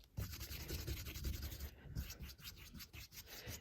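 A clipped chip brush dipped in 99% alcohol is worked over Chavant clay, giving a steady, close, soft bristly scrubbing with quick rhythmic strokes and no talk.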